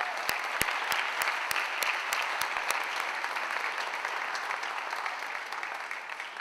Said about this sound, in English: So can we have a round of applause for all the parents here tonight?